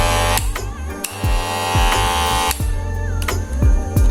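A cordless KEMEI 2022 hair clipper hums loudly near the mic, its motor buzz steady and rich in overtones, with soft repeated bumps and a brief dip as it is moved, running the whole time with no one speaking.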